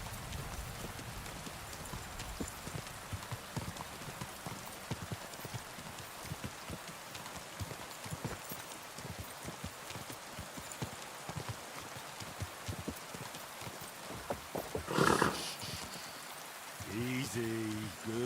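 Horse hooves clip-clop steadily through a medieval Bohemia video game world, a continuous rhythmic patter blended with rain-like ambience, ending in a brief louder burst of other game sounds.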